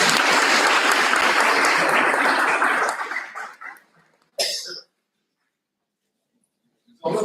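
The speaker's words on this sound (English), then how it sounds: "Audience, huge round of applause." An audience at a principals' conclave in Lucknow breaks into loud, dense applause that fades out after about three seconds, followed by a brief burst of clapping or a cough and then near silence.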